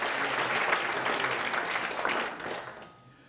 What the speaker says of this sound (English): round of applause for everyone who's made it possible